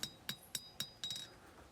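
Hammer blows on a steel knife blade during hand forging of a through-tang knife, worked a hammer width at a time: four sharp, evenly spaced ringing strikes, then a quicker cluster of lighter taps, close and clear with no talk.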